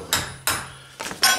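Sharp hammer blows ring out during work on a flange, four distinct metallic strikes in an irregular rhythm, loud and close, each with a bright ringing decay and no voices over them.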